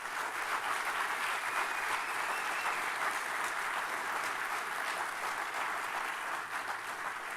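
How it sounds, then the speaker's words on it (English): A large audience at a county sheriff's office awards ceremony gives sustained, dense applause for the team members, a steady even roar of many hands holding at one level throughout. "Please give one more great round of applause to our team members."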